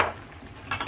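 A ladle scrapes and clinks against a cooking pot while pork menudo with pork liver is stirred. It gives a brief metallic scrape at the start, a quiet gap, then a cluster of clattering strokes, all close and fairly soft.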